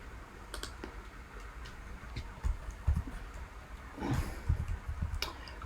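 Scattered sharp clicks from a computer mouse while placing a spot trade, irregular and fairly close over a low background hum.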